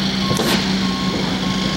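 A truck backs up on Bolivar Peninsula, Crystal Beach, in the aftermath of Hurricane Ike. Its reversing alarm gives steady repeated beeps over a rumbling engine and wind noise.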